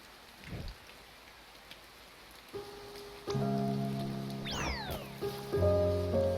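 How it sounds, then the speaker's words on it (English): Rain falls in the video game A Bird Story as a soft, faint wash, joined partway through by layered tonal game music that grows louder toward the end. "It's raining. It's pouring."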